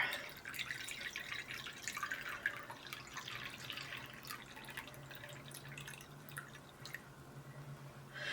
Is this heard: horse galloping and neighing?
no